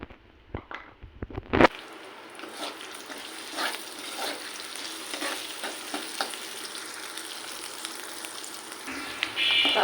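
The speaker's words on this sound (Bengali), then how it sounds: "এখানে আমি তেল দিয়ে আমি তার ভিতরে রসুন পেঁয়াজ দিয়ে দিলাম" Garlic and onion hit hot oil in a pan while cooking beef tripe, with a few clinks, then a sharp burst into steady, bright sizzling and crackling, punctuated by occasional stirring scrapes.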